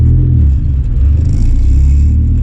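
Steady low rumble of a Dodge Neon SRT-4 idling with its exhaust closed, heard from inside the car while creeping around a parking lot, a constant muffled drone with no talking.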